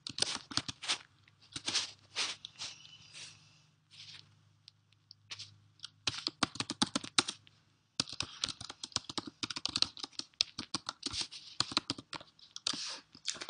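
Fingers type on a computer keyboard in a quiet room, producing bursts of rapid, close clicking keystrokes with a short pause in the middle and no talking.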